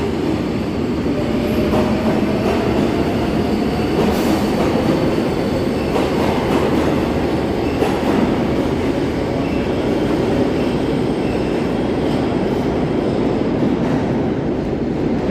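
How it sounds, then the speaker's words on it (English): An out-of-service New York City subway train rumbles past close by on Houston Street for the whole stretch, a dense, steady roar of wheels on rails with faint metallic squeals. "That train was not in service."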